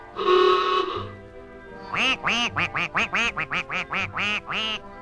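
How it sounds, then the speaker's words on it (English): Rapid series of nasal cartoon duck quacks on a pond in a quick rhythmic run, preceded by a longer honking call, close and fairly loud. "A lot of ducks out on the pond."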